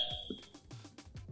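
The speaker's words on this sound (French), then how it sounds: "D'abord, je teste le buzzer." A quiz game show buzzer gives a short electronic beep, quiet and close, with a little rustling handling noise after it.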